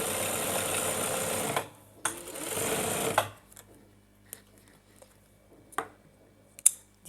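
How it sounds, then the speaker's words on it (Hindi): A sewing machine runs a second line of stitching over a trouser seam in two bursts of rapid whirring, about one and a half and one second long, close and loud, followed by quiet handling clicks. "इसके बाद फिर दोबारा मैं इसके ऊपर सिलाई लगाने लगी हूँ"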